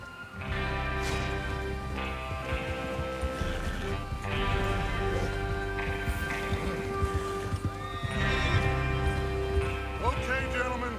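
Horses in the Red Dead Redemption 2 game, with hooves clopping and movement sounds under a tonal musical score, the animals fairly close amid other layered game ambience.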